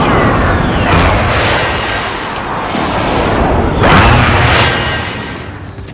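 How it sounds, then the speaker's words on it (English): Friendly precision airstrike in a battle royale shooter game: heavy booming explosions land in succession, loud and close, each with a sharp crack and a long rumbling tail, two main blasts standing out. "Be advised, friendly precision airstrike inbound."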